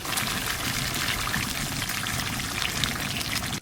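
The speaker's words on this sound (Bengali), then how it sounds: "অল্প একটু জল দিয়ে দেবো।" Water pours steadily into a pan of fish curry in one continuous splashing trickle, close and fairly loud, stopping abruptly at the end, with no talking.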